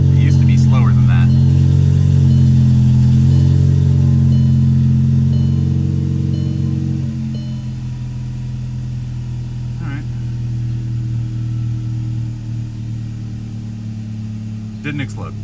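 Volkswagen 1.8 turbo engine idling steadily after a downpipe change with a CEL eliminator spacer, a loud low hum close by that drops in pitch partway through and then settles, with brief faint clicks.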